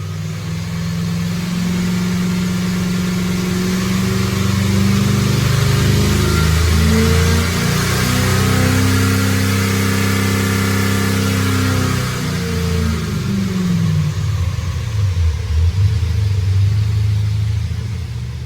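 EFI car engine loading up and revving hard, a loud, sustained rising and falling mid-pitched roar that holds for most of the stretch, then drops back toward a rumbling idle near the end, with no talking.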